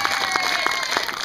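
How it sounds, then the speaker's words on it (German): A crowd at a youth football camp penalty shootout applauds the goalkeeper in a short, steady burst of clapping heard from a distance. "Erstmal einen riesen Applaus für den Tom Wolf"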